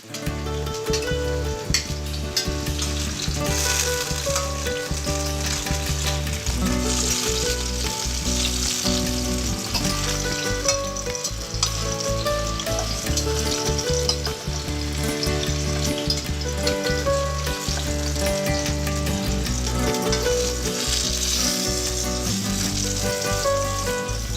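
Zucchini slices frying in a pan, a loud, continuous crackling sizzle that holds steady throughout with little variation, heard up close and alone.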